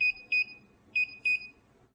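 A camera's low-battery warning beeps, used as a horror-story sound effect: four short, high electronic tones in two evenly spaced pairs, crisp and isolated against near silence.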